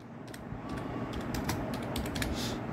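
Rapid, steady typing on a computer keyboard, close up, with a continuous patter of key clicks and a few louder strokes, no voices.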